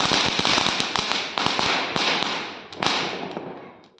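Rapid strings of sharp firecracker bursts crackle and pop in a dense, continuous barrage during Diwali celebrations at home, with a few louder bangs standing out before it fades.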